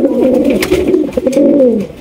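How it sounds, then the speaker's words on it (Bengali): A big Siraji pigeon coos close to the microphone, loud, rolling, throaty calls sustained through the moment with a short break midway, and no voices. "একদম বিগ সাইজের সিরাজি কবুতর।"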